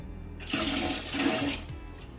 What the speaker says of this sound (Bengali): এই যে চালটা এর মধ্যে দিয়ে দিই জলটা ঝরিয়ে একটু শুকিয়ে নিই